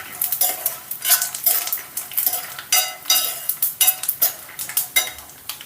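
A spoon stirs half a spoon of cumin into fried chutney ingredients in a pan, giving close, repeated metallic scrapes and clinks over a light sizzle, with no talk.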